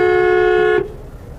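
A car horn sounds in one sustained, loud, steady honk for nearly a second during a driving lesson in traffic where tempos turn suddenly, then cuts off to road noise.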